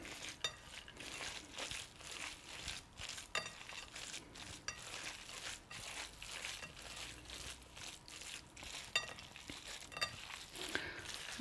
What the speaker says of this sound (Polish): należy zakasać rękawy i całość ugniatamy ręcznie